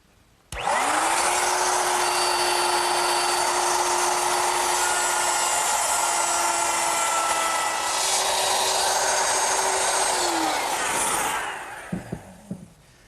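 A router with a straight cutting bit and guide collar cuts a dado in wood: the motor spins up sharply, holds a loud steady whine with gritty cutting noise for about ten seconds, then winds down, followed by a few light knocks.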